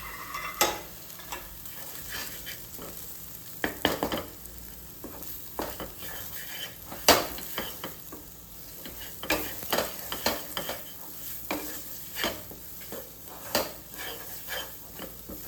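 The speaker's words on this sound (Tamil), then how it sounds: "நல்லா வதக்குங்க." Garam masala, chicken masala, cumin, coriander and chili powders sautéing in a pan for hotel-style egg gravy, with a close, steady sizzle and repeated spoon scrapes and clinks against the pan throughout, no talking.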